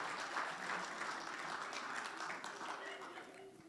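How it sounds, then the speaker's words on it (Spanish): Audience applause fills a church service, a steady wash of clapping that holds for several seconds at moderate loudness and tapers slightly toward the end. "Un aplauso a él."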